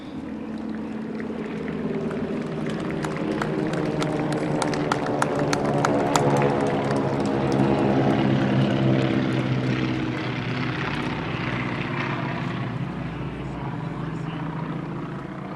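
Propeller aircraft flyover at a Memorial Day ceremony at a veterans memorial in Stillwater, Minnesota, a loud, sustained engine drone that swells and then slowly fades, with faint voices in the background.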